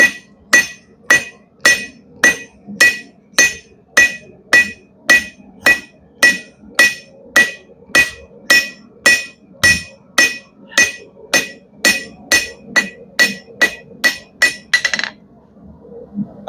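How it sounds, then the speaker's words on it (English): A blacksmith forging a chain hook strikes a hammer on an anvil about thirty times in a fast, even rhythm, each blow a loud, ringing metallic clang close by, until the hammering stops near the end. "Hammer it down a little bit more."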